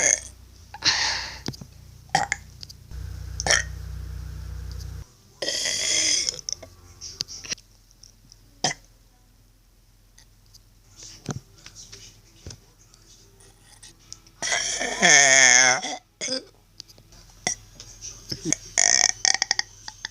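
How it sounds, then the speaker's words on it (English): A girl burps loudly again and again, several long croaking burps spread across the stretch with pauses between them, mixed with some handling clicks and brief noises. "I'm going to show you how many times I've been burping"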